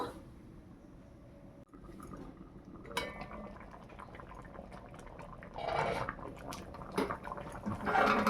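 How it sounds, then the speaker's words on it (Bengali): Lentil dal bubbles in a pot at low volume, with soft burbling and a few faint clinks that swell slightly toward the end. "ডালটা ভালোভাবে ফুটে গেছে, এবার আমি নামিয়ে নেব।"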